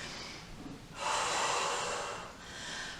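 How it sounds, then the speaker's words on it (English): Heavy, forceful breaths from someone doing reverse lunges in a kettlebell workout, a sharp loud exhale surging in after a quieter stretch and holding for over a second, then easing before another push of breath. "Breathing in on the way back, breathing out on the way up."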